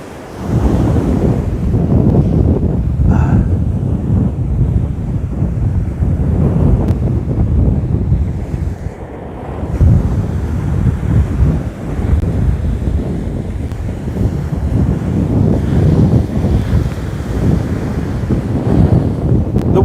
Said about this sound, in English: The wind is part and parcel of fishing in WA